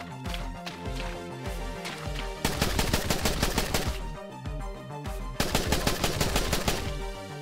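Rapid bursts of gunfire ring out in a multiplayer preview of a game made in Core, with repeated automatic volleys and sharp shots over looping game music, no talking.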